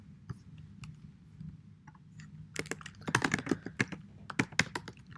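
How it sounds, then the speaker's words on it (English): Computer keyboard keys clatter in irregular bursts while C++ code is typed, quiet and sparse at first, then quickening into denser, louder runs of clicks over a low room hum, with no talking. "Let's head over to our C++ file and code up a few of these"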